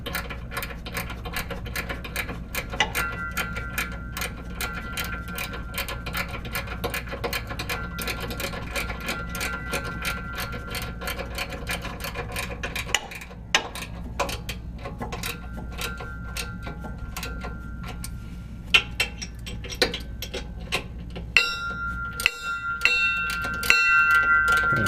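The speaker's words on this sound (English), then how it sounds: "It sounds like a big chime when I'm banging the wrench on that roller." A wrench banging on the steel roller of a turf striper fitted to a Toro Z Master mower rings out with bright, chime-like metallic strikes, some sustained, others sharp and scattered, over a steady background.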